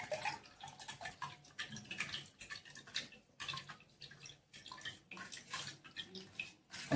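Water splashes and trickles into a kokum and jaggery drink mixture as it is strained, in uneven close bursts with short pauses, alone without talk.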